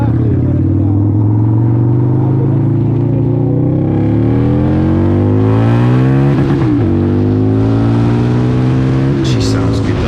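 A Harley-Davidson V-Rod motorcycle accelerating hard off the line, its loud engine note climbing steadily through the gears with brief dips at shifts, close and continuous for about ten seconds.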